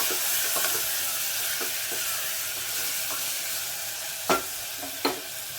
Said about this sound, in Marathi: हिरवी मिरची, लसण आणि जिरं घालून घ्यायचं. त्याला पण 1 मिनिट परतून घ्यायचं असं छान.